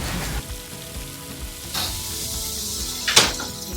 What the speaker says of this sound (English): we're going to saute those on high for about 5 minutes